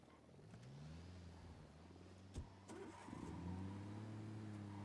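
A car engine in the Ghost Recon Wildlands video game cranks briefly and catches, then settles into a steady mid-pitched idle with a slight rise near the end, with no talking over it.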